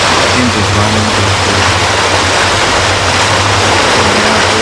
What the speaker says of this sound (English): it might be a little noisy with the engines running